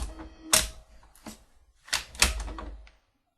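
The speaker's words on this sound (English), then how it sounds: "now is the time to place your CD in your CD drive" A CD is pushed into a computer CD drive: a few plastic clunks and clicks close up, a sharp thunk as the tray or disc seats, then a quiet stop.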